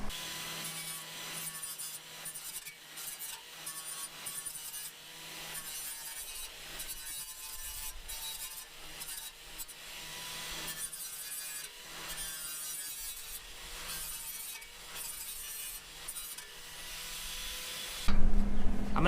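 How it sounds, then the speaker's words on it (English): A round file scrapes rust from the inside of holes in metal on a car core support, making repeated close, rhythmic rasping strokes that continue steadily, ending with a louder clatter. "I'm going to go in with this round file just to clean the rust out of the inside of these holes."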